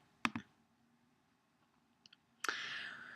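A few sharp computer mouse clicks while browsing a meal plan's nutrition info: a quick pair near the start, two faint taps later, then a brighter click with a lingering hiss, all in a quiet room.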